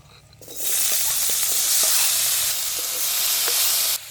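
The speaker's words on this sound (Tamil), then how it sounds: "இப்போ உங்களுக்கு வெங்காயம் மிளகாய் நல்லா பொரிஞ்செடுத்து நாங்கள் வடிச்செடுப்போம்." Onions and chilies fry in hot oil in a village kitchen, a loud steady sizzle that starts abruptly and holds for about four seconds with faint crackles, then drops slightly at the end.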